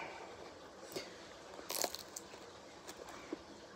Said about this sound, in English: we're just gonna try the baguette.